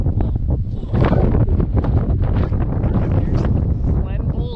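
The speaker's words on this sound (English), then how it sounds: "It's a little windy." Strong wind buffets the microphone on an open mountain trail on a sunny day near Boot Spur and Glen Boulder, a loud continuous rush and flutter filling the whole clip.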